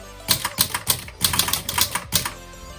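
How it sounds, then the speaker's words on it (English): Typewriter keys clack across a page in a quick, uneven rhythm of sharp strikes, with brief pauses between bursts. The typing is close and clear, with no voices over it. "the typewriter's keys tippity tapped across the page"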